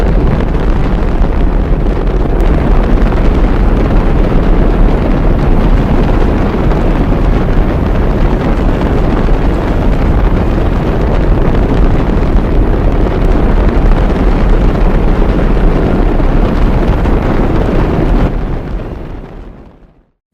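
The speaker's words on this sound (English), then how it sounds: "All engines running. Commit. Liftoff. We have liftoff at 11 a.m." Saturn V rocket lifting off on the Apollo 10 launch: a massive, steady, crackling roar that fills the whole clip without a break, then cuts out abruptly at the end.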